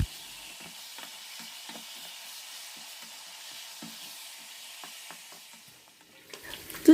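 Pieces of food frying in oil and being turned until golden for Senegalese tiebou yapp niébé, a steady soft sizzle with scattered spatters and light utensil taps, ending in a few louder scrapes and clinks near the close.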